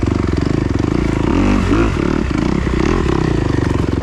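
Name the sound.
Kawasaki KX250X dirt bike engine riding singletrack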